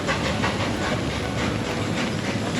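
Lagoon's Wild Kingdom Train locomotive rolling along its rails, a steady close rumble with hissing wash and faint clickety-clack throughout, no voices.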